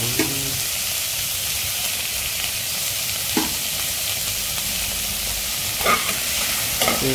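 Chicken frying with spices in a pan, a continuous loud sizzle broken by several sharp clinks and scrapes of stirring, with no talking.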